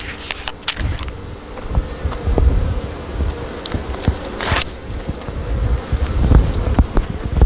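Honey bees humming around hive entrances on new stands in an apiary, a steady insect drone with wind buffeting and rustling over it, fairly close.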